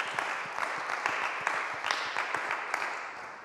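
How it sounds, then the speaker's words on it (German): An audience at an architects' talk on circular building applauds with a dense, moderate patter of clapping. It is fairly far off and holds steady throughout. "Vielleicht einen kleinen Applaus."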